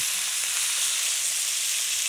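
Alberta beef short ribs sizzle loudly as they sear in a hot pan, a steady, dense frying hiss that runs unbroken and close-up, with no voices.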